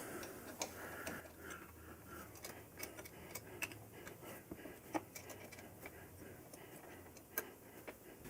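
An Allen wrench tightens screws on a fat-tire bike fork, giving repeated small metallic clicks and ticks at an irregular pace over a low background hum, fairly close and quiet.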